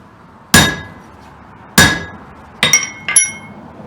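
Hammer blows on a rivet set, four sharp metallic strikes with ringing overtones: two spaced single hits followed by two quicker ones near the end, loud and close with no talk.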